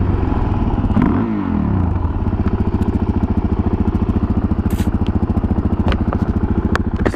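A Suzuki DRZ motorcycle engine running close by, a loud, steady single-cylinder thump with a quick even beat, briefly rising in pitch as it is revved and then settling back into a rhythmic idle.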